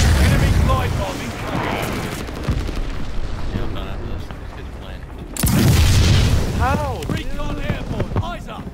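Glide bomb explosions in the video game Vanguard, with deep booming blasts rolling under continuous shouting voices, a fresh heavy impact striking about halfway through, loud and close.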